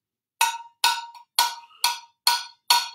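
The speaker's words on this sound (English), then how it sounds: "And it makes sort of like a cowbell sound." An upside-down metal mug is struck like a cowbell at a drumming workshop, giving seven sharp, ringing clanks in an even rhythm, close and loud against silence.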